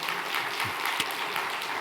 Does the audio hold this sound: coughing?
no